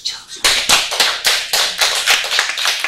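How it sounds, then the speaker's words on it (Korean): Hands clapping in a quick, fairly regular series of about a dozen sharp, loud claps, close by with no talk over them. "손을 대고 박수쳐."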